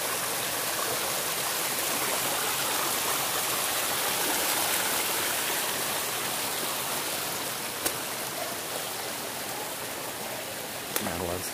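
A rushing stream pours along the Catwalk walkway in a New Mexico canyon, a loud continuous broadband roar of whitewater close by, with a couple of brief knocks and a short voice near the end.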